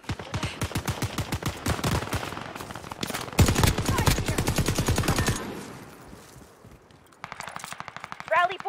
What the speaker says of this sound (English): Someone's shooting me from behind.